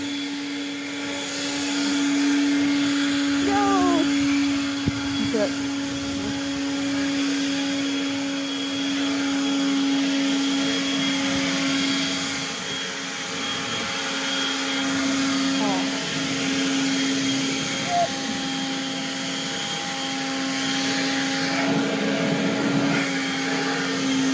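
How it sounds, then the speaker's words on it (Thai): A vacuum-blower cleaning machine, also used for blowing out a car, runs continuously with a loud, steady motor whine and a fixed high hum. Faint voices come and go beneath it. "อันนี้คือเครื่องทำความสะอาด"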